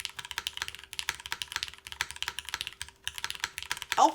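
Close, steady typing on an MK Point65 mechanical keyboard with a flat-sounding spacebar, in quick clustered bursts of key clacks separated by brief pauses, with no voices.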